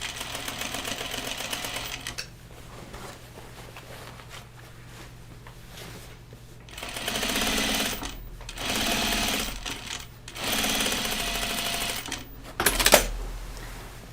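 Close sewing machine stitching overalls made with topstitch thread, running in several short bursts of rapid clatter separated by brief pauses, ending with a sharp knock; no speech.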